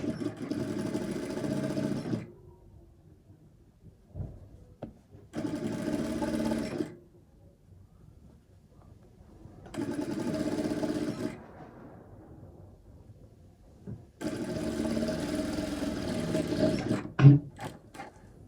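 Sewing machine stitching down the folded edges of a cargo shorts pocket facing, running in four steady bursts of about two seconds each with quiet pauses between, close and clear, ending with a few sharp clicks.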